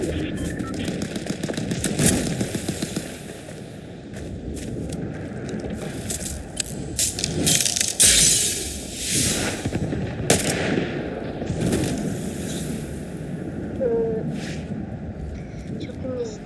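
Gunfire rattles through a Fortnite match in quick bursts and repeated shots over a steady game background, while a voice talks over most of it.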